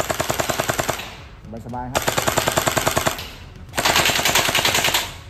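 Electric SLR gel blaster gun firing in rapid automatic bursts, a steady mechanical rattle of shots broken by a brief pause and then a louder, closer burst; a voice speaks briefly.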